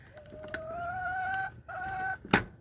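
A pet frizzle hen gives two drawn-out tonal calls close by, followed by a short sharp noise, with no talking.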